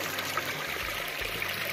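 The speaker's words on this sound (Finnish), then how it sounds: "Se vesi kulkaa aika hyvin." A stream of water runs steadily toward a water wheel, a continuous close rushing flow with low rumbles underneath and no talking.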